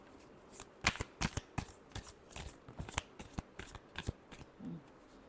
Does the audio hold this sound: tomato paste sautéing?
no